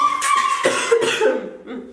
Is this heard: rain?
no